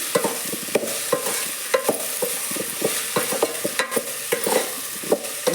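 Okra tempered in hot oil for a palya, with repeated sharp scraping strokes of a spoon against the pan over a constant oily sizzle, close and fairly loud, with no voices.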